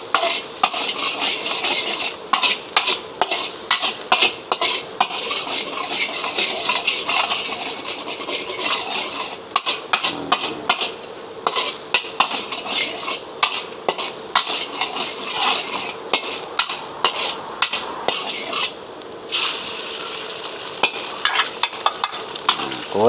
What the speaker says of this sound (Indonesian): langsung saja kita masukkan ke wajan bumbunya